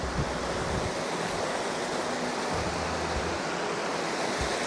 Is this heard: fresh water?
yes